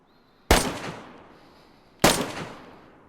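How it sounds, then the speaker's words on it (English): Two loud, sharp gunshots from a firearm in the zombie survival game DayZ played in PlayStation VR on PS4, each with a long reverberant tail, spaced about a second and a half apart. "The shooting is so good"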